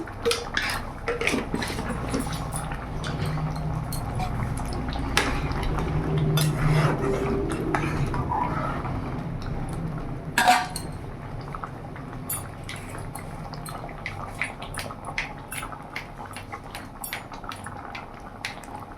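Vegetable dal simmers and bubbles in a pot on the stove, a steady close-up burbling texture with scattered clinks and scrapes of a ladle against the metal rim.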